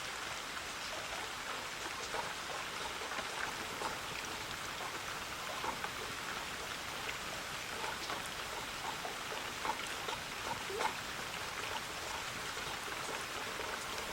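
Steady heavy rain pours down continuously, a dense hiss of drops with occasional louder spatters, fairly distant and with no voices.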